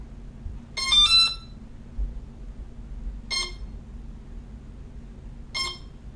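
An RC Dynam PBY Catalina sounds startup beeps after its battery is connected: a quick cluster of electronic tones, then two shorter bursts spaced a few seconds apart, with a faint hum underneath.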